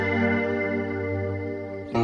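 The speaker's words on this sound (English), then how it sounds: "we're going to use a standard chorus plugin here" A sustained synth chord swirls with a thick, wavering shimmer from a chorus plugin, holding steady before a brief shift at the end.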